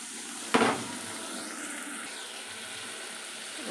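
Water poured into a cooking pan of fried spice mixture for a fish curry, a sharp splash and hiss at first, then a faint steady simmering sizzle, quiet and close, no talking.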